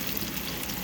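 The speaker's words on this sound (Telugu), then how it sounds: "అలా వేగుతున్నాను." Coriander leaves, red chillies and green chillies fry in a pan for a raw banana curry, giving a steady, close hiss and sizzle that stays even through the brief moment with no voices.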